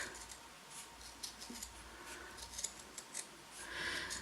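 Scissors cutting stiffened felt, a run of close, crisp snips in an irregular rhythm, with small rustles of material between cuts and no talking.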